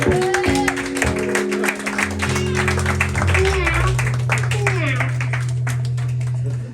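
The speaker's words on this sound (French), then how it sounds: "un tonnerre d'applaudissements" Audience applause and cheering for a drummer at a live concert, loud and sustained under held musical tones, with voices calling out in the crowd.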